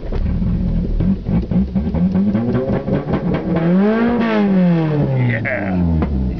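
An Eagle Talon car engine on its first test drive revs up and down, sputtering and misfiring with uneven pulses under a sluggish throttle, loud and close from inside the car.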